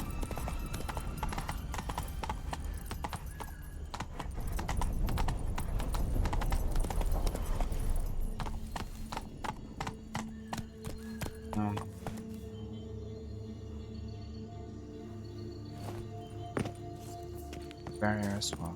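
Horse hooves clip-clop in The Witcher 3 while ridden, first a dense, loud gallop, then thinning to slower, scattered steps with game sounds around, and a voice talking over parts.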